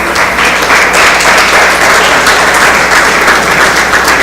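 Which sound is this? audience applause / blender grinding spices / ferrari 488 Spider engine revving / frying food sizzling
audience applause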